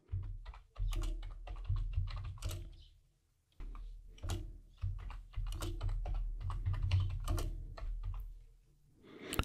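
Rapid clicking of computer keyboard keys entering a Linux command on an Ubuntu server, close and crisp bursts of keystrokes with a short pause mid-way, no voice heard.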